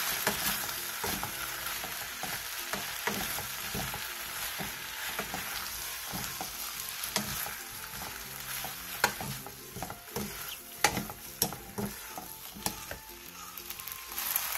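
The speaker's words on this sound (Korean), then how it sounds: "그 다음 슬라이스 햄을 넣고 골고루 어우러질 정도로만 볶아주세요" Sliced ham and onions stir-fried together in a pan, a steady loud sizzle with frequent scraping and stirring clatter throughout, close and alone with no voices.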